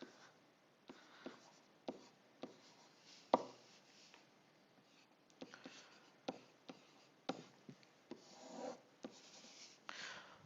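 Pen or pencil writing notes by hand, with steady scratchy strokes and a series of sharp taps as each mark lands, close and fairly quiet throughout.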